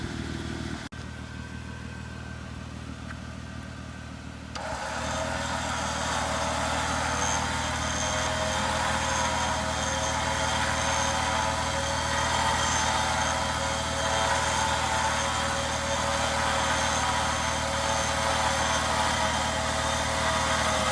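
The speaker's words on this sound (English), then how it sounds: "Vehicle's in neutral, the winch is doing all the work." A Warn winch steadily rewinds its cable onto the drum while the vehicle sits in neutral in snow, a continuous loud motor drone with faint mechanical clatter that steps up in level after a few seconds and holds.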